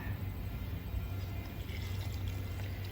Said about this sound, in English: Now I'm gonna pour the mixture